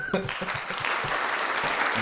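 Audience applause during a Father's Day stand-up talk, a short burst of clapping from the crowd with a voice briefly heard at the start.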